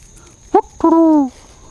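A person imitates a wood owl's deep whistle: a brief low hoot followed by a longer falling tone, close and clear against a quiet background.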